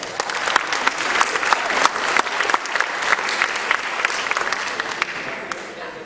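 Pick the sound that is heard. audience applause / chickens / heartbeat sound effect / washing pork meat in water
audience applause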